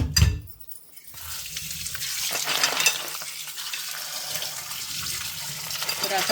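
Running water splashes and gurgles into a sink while crabs are rinsed and stirred by hand, preceded by a brief low clatter.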